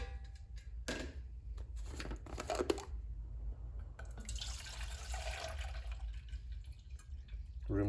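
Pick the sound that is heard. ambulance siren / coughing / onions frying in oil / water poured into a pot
water poured into a pot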